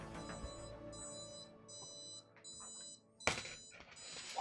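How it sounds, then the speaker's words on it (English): A Prusa Mk3.5 3D printer gives off a series of high electronic beeps and tones, repeated in short bursts with brief pauses, fairly close and clear, with a sharp clatter near the end. "It's making the beeps and the squeeps and the sweeps."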